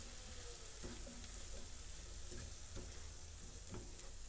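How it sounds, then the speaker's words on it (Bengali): Cabbage salad stirred in a hot pan on a stove just switched off, a faint continuous sizzle with soft scraping strokes at an uneven rhythm. "তারপর আমি আরেকটু নাড়াচ্ছি"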